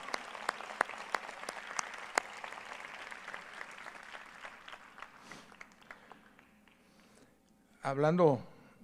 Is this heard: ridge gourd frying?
no